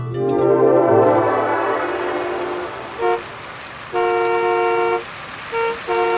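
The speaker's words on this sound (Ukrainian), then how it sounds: "Вулиця Канатна традиційно завмерла у заторі." Car horns sounding in a traffic jam on Kanatna Street in Odesa: a long loud blast fading out, then several short and longer honks in a stop-start pattern over a steady low traffic rumble.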